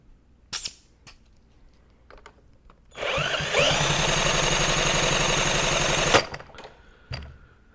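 A 1964 Honda Super Cub engine with low compression is cranked during a compression test. It gives a steady, loud mechanical whirring chug that lasts about three seconds, with a few faint clicks and taps before and after.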